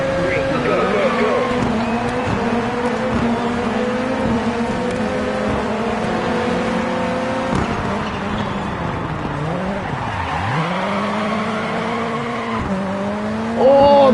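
A rallycross car in the DiRT 4 racing game roars loud and close throughout, its engine pitch rising and falling through gear changes, with tyres squealing in corners and a voice talking over it.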